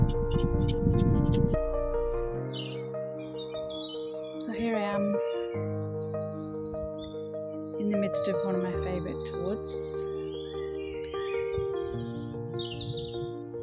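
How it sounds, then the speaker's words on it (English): Birds chirp and sing in spring woods in the background with high, scattered calls, while a person speaks in the foreground over soft music. "you probably hear the birds singing away"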